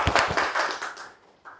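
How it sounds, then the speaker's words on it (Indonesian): A small audience at a university teaching presentation gives brief, close clapping that thins out quickly and stops within about a second and a half. "tepuk tangan dulu untuk Adelia."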